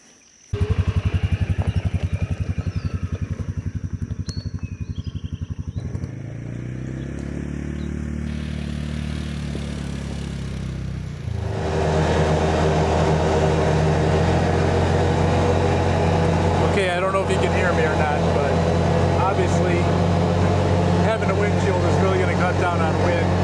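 A Polaris Ranger utility vehicle with a StarkNightMT front windshield fitted starts and drives off on a test run, its engine droning loud and steady with rising revs and rattling clatter throughout.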